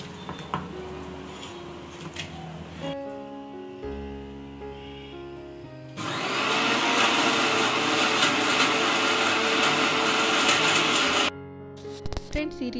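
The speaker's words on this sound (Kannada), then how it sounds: "ಇದನ್ನ ನಾನು ಮಿಕ್ಸಿ ಮಾಡ್ಕೊಂತೀನಿ ಫಸ್ಟು." A kitchen mixer grinder blends garlic, ginger and onion with whole spices, giving a loud, steady whirring grind of several seconds that starts abruptly and cuts off, with quieter clatter and handling before it.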